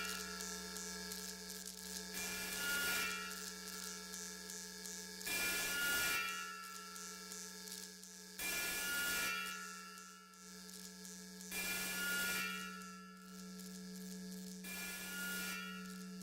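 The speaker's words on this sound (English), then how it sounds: "Sounds like sharpening a sword." A track from an album by an experimental hip-hop group, instrumental and without lyrics, plays with rhythmic scraping bursts like a sword on a whetstone, recurring every few seconds over a steady low hum.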